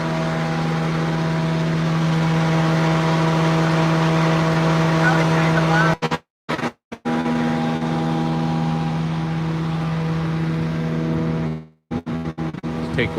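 Steady mechanical hum from a pump on a site being loaded up for pressure testing, running loud and close with a constant drone that drops out in brief breaks.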